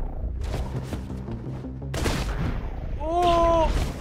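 Gunfire in the video game Katana Zero, a short burst of impacts and booms mixed with game music and effects, fairly loud, followed by a rising electronic tone.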